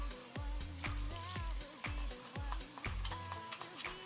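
Water being stirred into a homemade flour shampoo mix, a repeated scraping and clinking of a utensil against the bowl in a steady rhythm, close and fairly quiet.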